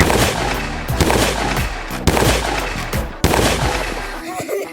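Rapid bursts of Nerf gun fire in a backyard-style Nerf gun fight, a run of snappy shots crowding together in quick volleys, with a few brief pauses between bursts and little talk.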